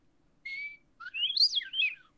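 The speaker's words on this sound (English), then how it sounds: "The Western Meadowlark." A Western Meadowlark's call: a clear sustained whistle, then a fluting phrase that rises and falls, sounding close and alone against silence.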